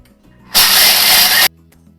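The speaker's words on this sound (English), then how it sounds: "On with the lid, gets a little bit noisy now. We're going to grind these beans up." A Thermomix TM6 grinds coffee beans in a sudden loud, dense whirring burst close by that lasts about a second, then cuts off abruptly into quiet.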